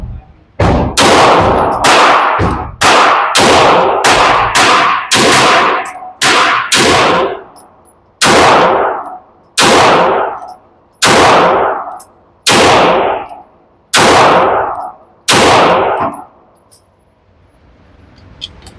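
Handgun shots fired one at a time, roughly a dozen loud sharp cracks with ringing decay, close by, spaced about a second apart at first and slowing to a steadier pace toward the end.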